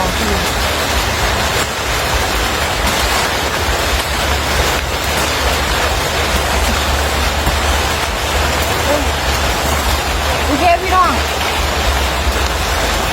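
Rain falling steadily on a garden, a constant broadband hiss like rushing water that holds loud and even throughout, with a faint voice-like sound briefly near the end.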